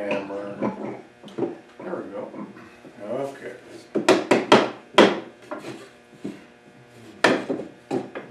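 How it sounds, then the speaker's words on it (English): Woodworking clamps coming off a glued child's wooden chair, with a series of close knocks, clacks and rubbing wood sounds mixed in with ongoing talk. "Let's get the clamps off of this thing so we can get the other half glued."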